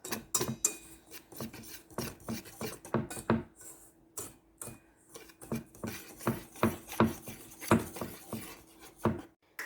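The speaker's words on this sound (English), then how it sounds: "Now whisk this together, your dry ingredients." A whisk scrapes and clinks rhythmically around a bowl of dry ingredients for a chocolate cobbler, with quick repeated metallic strokes at close range and no voices.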